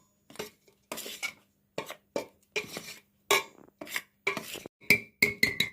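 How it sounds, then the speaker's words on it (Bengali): Flour being mixed in a bowl for patishapta pitha batter: a series of short, separate scraping and clinking strokes of a utensil against the bowl, close and crisp, with brief gaps of silence between them. "এগুলোকে আমি ভালো করে মিশিয়ে নিচ্ছি"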